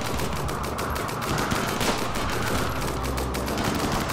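New turrets in the video game RimWorld firing rapidly, a dense, continuous stream of crackling gunshots with even rhythm throughout, loud and unbroken.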